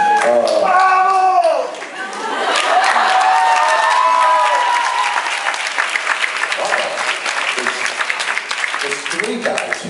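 An audience at a convention panel breaks into a loud burst of applause and cheers that tapers to scattered clapping, with voices talking and shouting over it.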